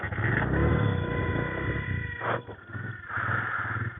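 A motorcycle loaded with luggage tied on top pulls away for a trip toward Ganga Choti in Bagh, Azad Kashmir, its engine rumbling loud and close, then easing and picking up again.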